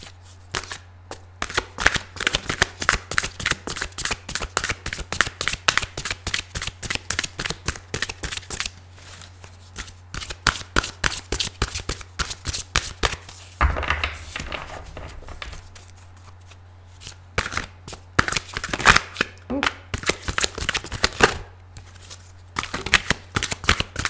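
Tarot cards riffled and shuffled by hand in rapid, crisp bursts that run almost nonstop, close and fairly loud, with a short pause midway before the shuffling resumes.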